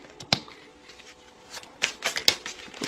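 Tarot cards shuffle close up in a quiet room, with soft riffling and several sharper flicks and snaps of cards, including a cluster of louder snaps toward the end.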